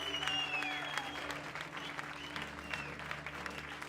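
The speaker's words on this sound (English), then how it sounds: "That's a different clap, isn't it? Yeah, it has whistles and stuff in it now." Crowd applause with whistles mixed in, a dense steady clatter of clapping with a few rising whistle tones near the start, at even loudness throughout.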